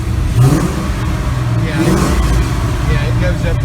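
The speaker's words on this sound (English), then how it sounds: "yeah, rev it." An LS-swapped Chevy Nova engine revs up and settles in a rough, rumbling idle, with people talking nearby over the running motor.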